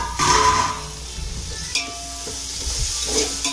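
Tomato and mint frying in hot oil in a pan, a steady sizzling hiss with a loud burst at the start and faint scraping stirs, no talking.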